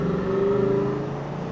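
A Ford Mustang GT V8 with universal mufflers, valves closed, accelerates in first gear, giving a muted, steady engine hum that climbs slightly in pitch, moderately close with no speech.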